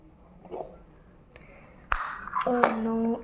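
A metal pot lid is lifted off a pot of cooked Maggi noodles in a home kitchen, giving a sharp clank and then ringing metallic clinks and a sustained tone, after quieter handling sounds.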